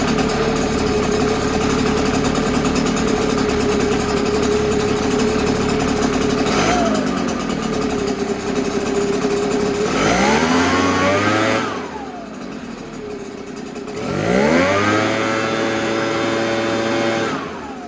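A Redmax EBZ7500 backpack blower's two-stroke engine runs loud and steady up close, revving higher twice with rising and falling pitch sweeps, then settling back down between bursts.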